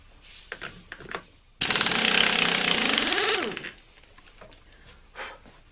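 An impact wrench loosens the rear output nut on a T-90 transmission during a rebuild, a loud continuous rattling burst of about two seconds, close by and alone, with faint handling noises before and after.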